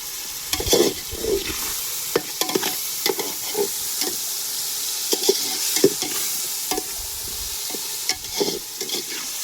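Ingredients sautéed in a hot pan, a continuous sizzle broken by repeated close spatula scrapes and knocks at an uneven rhythm throughout, fairly loud and with no speech.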